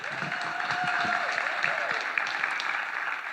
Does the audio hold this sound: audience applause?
yes